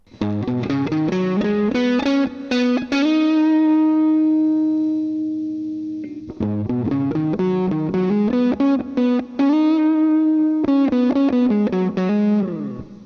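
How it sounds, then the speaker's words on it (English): Telecaster electric guitar with a ganged stereo tone control plays a steady run of notes and a long held chord, the sound growing darker and more muffled as the tone is rolled back. "And here's what turning down a ganged stereo tone sounds like."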